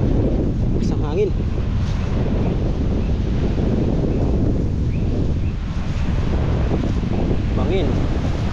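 Strong wind roars steadily across the microphone in heavy, rushing gusts on a mountain hike on Mount Nangtud, Panay Island, with faint voices and whistly bits buried underneath the constant blustery noise.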